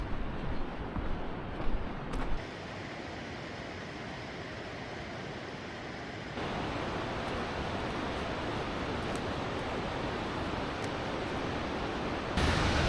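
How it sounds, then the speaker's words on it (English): A waterfall near the Havasupai campground in the Grand Canyon sends up a continuous broadband rush of falling water. The roar is steady and unbroken, with no voices. "There are 3 waterfalls right before the campground, and one of them is right at it"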